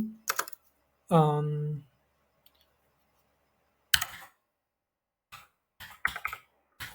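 Someone types code on a computer keyboard, giving short clusters of close, crisp key clicks separated by silences, with one brief hummed voice sound early on.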